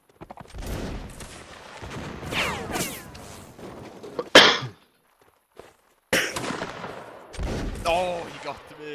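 Musket fire in Mount & Blade Napoleonic Wars, a line battle with scattered and volleyed shots, one sharp crack standing out, mixed with shouting and chatter from players throughout.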